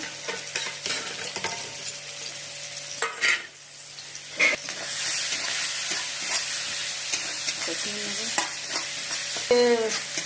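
Chopped onions sizzle in hot oil in a pan with cumin, asafoetida and green chilli for dhaba-style dal fry, while a spatula scrapes and stirs with a clatter against the pan under a steady frying hiss.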